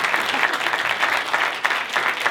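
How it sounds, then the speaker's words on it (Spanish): A university audience applauds the debate teams at the final of an interuniversity debate tournament, giving a continuous, loud wash of many hands clapping without a break. "Reiteramos por favor el aplauso"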